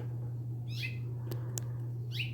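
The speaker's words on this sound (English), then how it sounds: "Bird." Outdoors, a bird gives two brief descending calls a little over a second apart, moderately distant, with a faint tick between them over a constant low hum.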